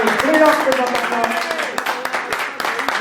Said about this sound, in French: merci encore un tonnerre d'applaudissements pour cette brillante présentation